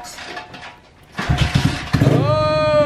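A small pit bike engine cranks a few times, then catches and revs up loudly nearby into a rising, buzzy whine.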